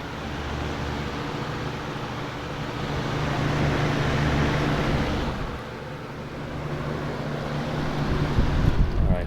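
A Lasko WeatherShield box fan runs steadily with a broad airy whoosh and a low motor hum, the rushing air swelling and easing slightly over time, with no talking.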